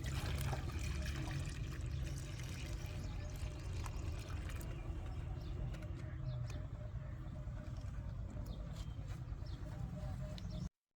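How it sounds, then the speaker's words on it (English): Steady trickling pour of water strained into a spray bottle, running continuously for several seconds, fairly loud and close, with a low background rumble throughout. "strain the water into a clean spray bottle"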